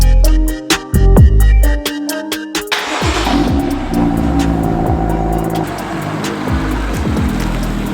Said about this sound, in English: and then we'll pull the car out and I'll show you what it looks like